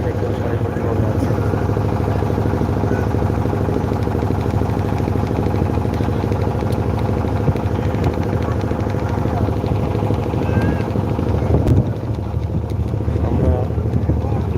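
A boat's engine drones steadily and loudly while crossing the Jadukata river to a landing ghat near Niladri Lake in Sunamganj, a constant low rumble throughout with a voice talking over it.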